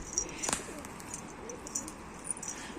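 Soft pigeon coos and brief wing flutters sound faintly over a quiet outdoor background, scattered irregularly across a few seconds.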